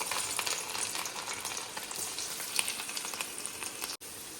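Chopped onion, tomato and garlic fry in a pan with a steady, close, hissing sizzle and faint stirring scrapes, and no one speaks.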